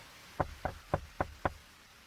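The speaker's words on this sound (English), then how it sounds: "I heard a knock" Five evenly spaced knocks on a door, moderately loud and close, against a faint background hiss.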